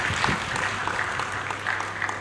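Audience applause at a military ceremony decorating newly promoted officers and men, a moderate, even wash of many hands clapping over a low steady hum, continuing without a break.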